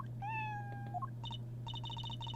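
A cat meows once in a drawn-out, slightly falling cry in the video game Apollo Justice, followed by a series of short high electronic beeps over a steady low hum.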